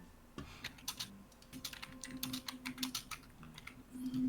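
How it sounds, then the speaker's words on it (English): Forceful, rapid tapping on a computer keyboard, a close run of sharp key strikes with uneven rhythm over a steady low hum, with no speech. "Sorry to hear me like forcefully tapping on my keyboard, trying to yes, undo things"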